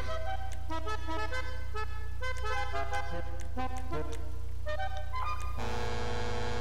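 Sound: truck horn honking in the video game GTA Online

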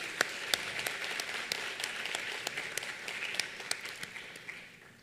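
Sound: applause

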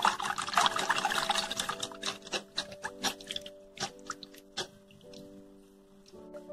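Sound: hand beater mixing egg yolk into milk for pancakes

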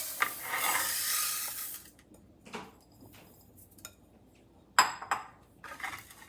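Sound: roasting flaxseed in a pan while stirring

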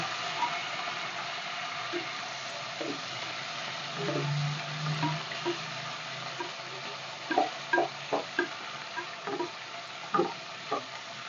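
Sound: onions frying and being stirred in a pan

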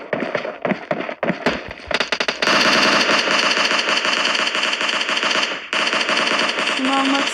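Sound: gunfire in the video game PUBG Mobile Lite

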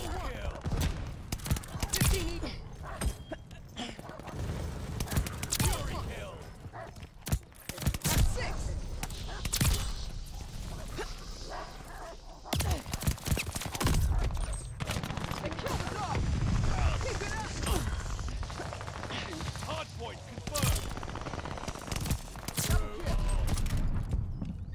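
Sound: gunfire from new DLC weapon in Call of Duty Vanguard video game

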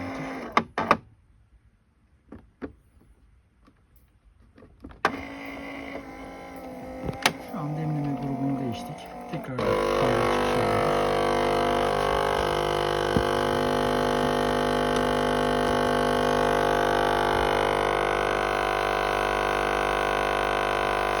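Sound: Melitta or Nivona coffee machine running, water coming from outlet

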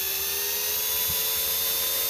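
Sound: electric drill drilling a hole

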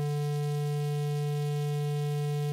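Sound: symmetrically distorted sine wave with harmonics

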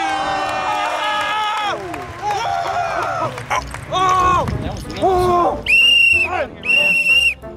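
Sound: referee's whistle blown on soccer court

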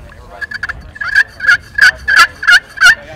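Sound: aluminum surface pot turkey call imitating gobbles

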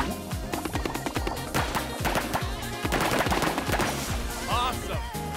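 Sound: foam gun blasting in FOAMSTARS video game

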